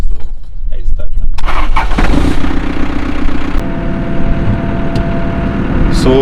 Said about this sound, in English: So we'll start our machine.